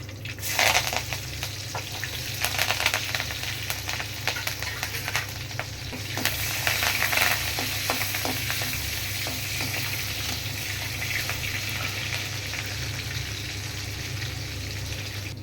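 Steady crackling sizzle of small onions (shallots) frying in hot oil for mutton curry, continuous and close, with occasional stirring clinks and no voices.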